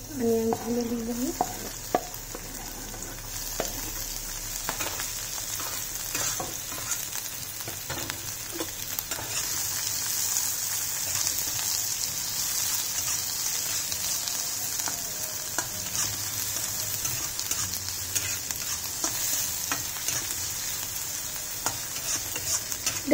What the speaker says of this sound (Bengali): তেলটাকে গরম করে নিয়েছি, তার মধ্যে মানে অনিয়নগুলো দিয়ে দিই